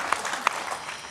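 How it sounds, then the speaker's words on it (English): Brief applause from a conference audience, steady and moderately distant, with a couple of sharper claps standing out and faint crowd noise underneath. "We'll give you a clap there."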